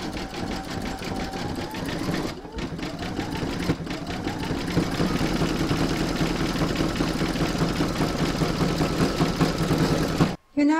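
An embroidery machine satin stitches around the toe of an in-the-hoop vintage witch's boot, a fast steady mechanical whir with brief pauses and a short stop near the end, heard close and continuous.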